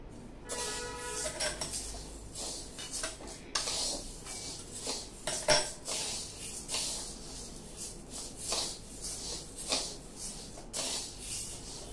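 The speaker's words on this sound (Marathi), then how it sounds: "हे बघा मी ज्वारी भाजायला घेतलीये" Jowar sorghum grains dry-roasting in a pan give off soft, irregular scraping and rustling as they are stirred against the metal, with occasional light clinks, fairly quiet and close.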